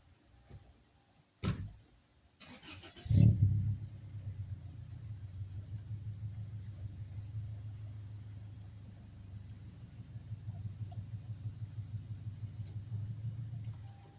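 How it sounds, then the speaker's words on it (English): Truck engine running as it backs up: a door-like thump and brief mechanical clatter, then a steady low rumbling drone that pulses gently for the rest of the clip, close by and with no one talking. "let me put the truck further back."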